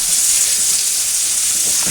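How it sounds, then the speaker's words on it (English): Food sizzles steadily in a preheated skillet on a stovetop, a constant bright hiss of frying that holds even throughout without pauses. "you kind of got your frying type effect going on"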